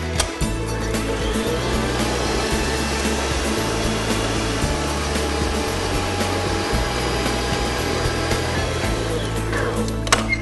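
An electric hand mixer whirs steadily while beating cake batter for a quick bake, a loud continuous motor drone with small shifts in pitch as the beaters move through the bowl.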